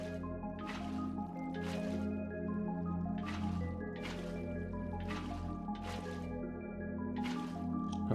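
Water buckets being placed repeatedly in Minecraft, a series of bright splashy pours recurring about every second over a steady low drone of game sound, with no talking.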